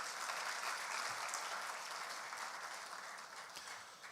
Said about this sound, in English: shall we do a big round of applause for them?